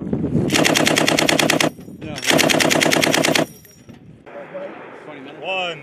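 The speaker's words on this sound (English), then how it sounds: "You guys are starting to receive that heavy machine gun fire coming." Heavy machine gun fire during a Marine Corps distributed maneuver exercise at Twentynine Palms, heard as two long, loud, rapid sustained bursts close by, followed by quieter rumbling and brief voices.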